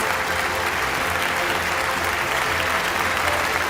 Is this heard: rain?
no